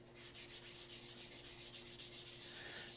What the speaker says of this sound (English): I just want to kind of lightly sand the backing again